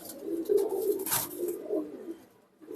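Pigeons in a loft full of prize-winning racing birds coo in soft, low, rolling bursts that run steadily and close by, with a brief quiet gap near the end.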